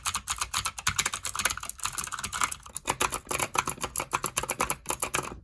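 Steady close-up typing on a Z77 mechanical keyboard fitted with white ceramic blank Cherry-profile WASD keycaps, a dense run of rounded, thocky key clacks with no talking.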